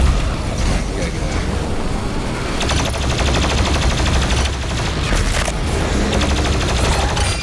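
Continuous loud gunfire and explosion blasts from the DOOM Eternal video game, dense and rapid throughout, with a voice mixed in among the shots.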